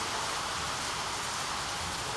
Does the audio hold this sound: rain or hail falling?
yes